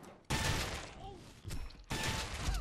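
Sniper rifle fire in a first-person shooter game, with a few loud, sustained bursts of shooting separated by short pauses and several sharp high ricochet or shell-like whistles in between.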